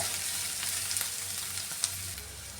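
Curry leaves and cut dried red chillies frying in hot oil give a continuous, fairly quiet crackling sizzle with faint pops, while beans are stir-fried Kerala style; no talking.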